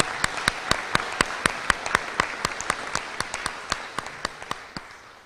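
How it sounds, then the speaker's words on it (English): An audience at a high school awards ceremony honoring seniors applauds, with steady, fairly sparse clapping heard in a large room that gradually thins and fades out. "Yes, let's clap for them."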